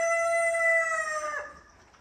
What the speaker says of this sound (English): There's the roosters. They're waiting to come out.